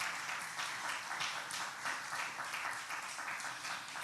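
Steady applause from a church congregation during a Sunday service, a dense wash of clapping that holds at an even level for a few seconds with no voices over it.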